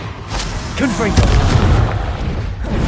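Confringo blasting spell cast in Hogwarts Legacy, a loud booming burst with a rumbling explosive tail and a spoken voice over it.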